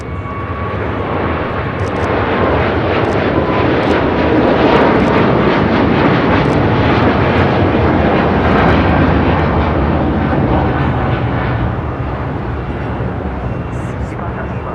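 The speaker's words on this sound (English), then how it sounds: "Flight 5 heading back to Taipei, rolling down at 25 right" An airliner bound for Taipei rolls down runway 25 right at LAX for takeoff, its engines a loud, sustained roar that swells and holds throughout, with voices audible alongside.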